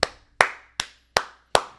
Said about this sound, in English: you got to clap it up, and I'll do it right now.